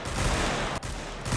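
Gunfire rings out in a volley salute at a retirement ceremony, two dense, loud bursts of overlapping shots separated by a brief gap, close and harsh with no voices.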